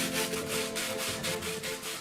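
Sandpaper wrapped on a cork bar rubs back and forth over a knife blade made from kitchen foil. The scratchy strokes come close up and steady, roughly four per second, with no voices.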